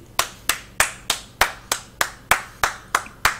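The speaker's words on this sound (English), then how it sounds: "So you can hear my clap." Twelve sharp hand claps ring out at a steady, brisk rhythm, close and loud, with nothing else in between.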